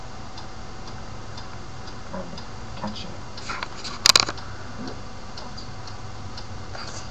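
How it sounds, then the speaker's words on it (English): A mysterious ticking noise taps faintly and steadily over a constant background hum, with a brief louder clatter partway through and someone speaking once. "What is that mysterious ticking noise?"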